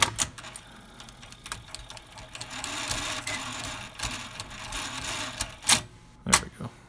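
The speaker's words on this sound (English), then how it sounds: "It'll automatically eject if it doesn't thread in a certain amount of time." Sony Betamax SL-5000 VCR mechanism threading a tape and then ejecting it, a busy run of whirring motor and mechanical chatter with a few sharp clunks near the end, close and moderately loud with no speech.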